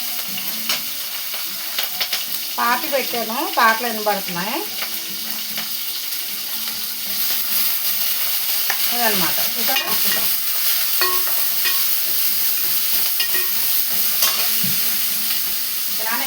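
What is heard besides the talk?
onions frying in tempering with chillies and cumin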